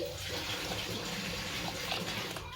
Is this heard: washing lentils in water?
yes